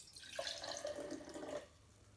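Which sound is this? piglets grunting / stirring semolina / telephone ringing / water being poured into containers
water being poured into containers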